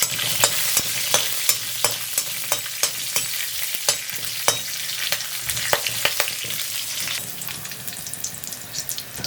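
Green chillies and a broken dried chilli sautéing in a pan for kadala curry, a bright steady sizzle punctuated by regular, rhythmic spatula taps and scrapes up close.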